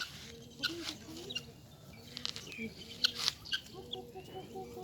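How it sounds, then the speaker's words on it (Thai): Chickens clucking and squawking in a busy coop, several birds at once, with scattered sharp calls over a low background murmur. "ไก่เต็มเลย"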